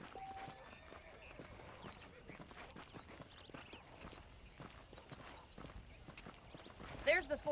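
Horse hooves clip-clop at a walking pace in Red Dead Redemption, steady light taps close by, with a voice talking over them and a brief louder burst near the end.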